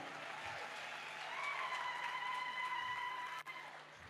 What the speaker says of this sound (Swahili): Pigia Yesu makofi ya utukufu